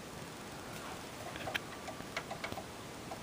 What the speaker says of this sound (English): A clock.